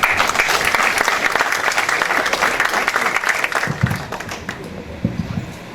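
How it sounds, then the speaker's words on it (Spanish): A mining institute gathering in Peru welcomes a speaker with steady, full applause from the audience, thinning out and fading over the last couple of seconds. "Y lo recibimos con un fuerte aplauso."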